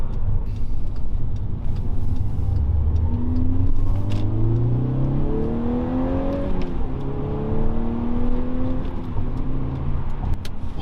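Volkswagen Golf R with an opened throttle body pipe accelerating at full throttle around a corner, the engine note climbing steadily through the gears, loud and close and continuous, with no talking over it.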